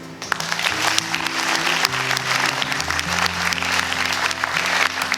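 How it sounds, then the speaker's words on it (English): Warm applause from a graduation ceremony audience for the guest speakers, steady dense clapping filling the hall throughout, with a low hum and faint murmurs underneath. "Please give a warm round of applause to Mr. Costello and all of our guest speakers"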